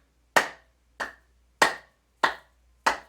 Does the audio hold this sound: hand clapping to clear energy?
yes